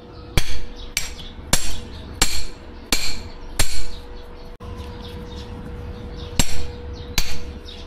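A hammer striking the screw of a car starter solenoid on an L200 Strada to turn it loose: about nine sharp, ringing metallic blows spaced roughly half a second apart, with a brief pause midway, loud and close.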